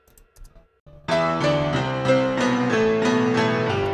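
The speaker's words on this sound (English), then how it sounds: "So I used the UVI workstation piano for both these pianos here." Software piano chords enter after a second of quiet, then repeat steadily in a close, clean sound, with two overlapping piano parts playing together, one slightly panned.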